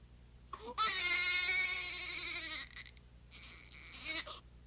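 Newborn baby crying during a Moro reflex newborn examination: a loud, sustained wailing cry, then a short pause and a second, shorter cry, heard close with no talk over it.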